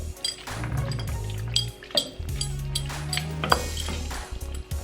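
A metal pot lid clinks and clatters onto a pot of simmering shrimp creole, making a few close, light metallic knocks against a steady low kitchen background.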